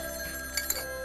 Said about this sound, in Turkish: Yeni telefonum ilk kez çalıyor.